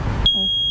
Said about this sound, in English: Make sure that they actually work, hit the button on them, make sure it beeps.